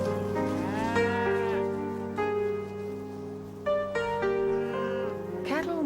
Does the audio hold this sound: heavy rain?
no